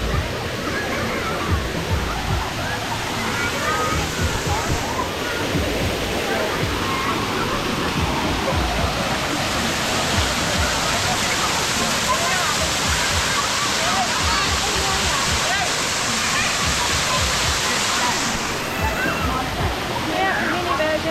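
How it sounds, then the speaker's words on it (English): A small mini waterfall at Kulen Waterfall in Cambodia pours steadily, a dense continuous rushing and splashing close by, with people talking faintly over it. "Little mini version of the waterfall"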